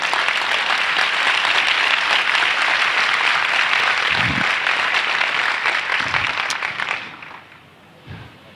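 A church congregation at a Christian conference applauds together in a sustained, dense wash of clapping that fills the room, then fades out toward the end with a few low thumps.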